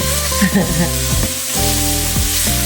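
Chicken for tongseng frying and slightly burning in a pan, a loud close sizzle under humming tonal background sounds, with a brief clatter midway.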